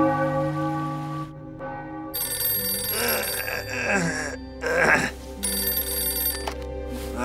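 In a cartoon hotel, a telephone rings out with bright, bell-like repeated trills for a wake-up call from reception, the ringing interrupted by brief cartoonish sound effects.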